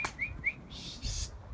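Young pigeons on a flight-training outing give a few short, high chirping whistles close by, set against a low rumble of wind or handling noise.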